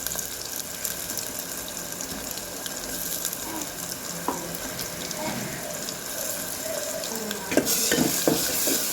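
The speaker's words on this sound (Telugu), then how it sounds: "అల్లం వెల్లుల్లి పేస్ట్ కూడా బాగా వేగాలండి" Ginger garlic paste fries with onions in a pan as mutton curry is cooked, giving a steady close sizzle throughout with a few scraping stirs and clinks near the end.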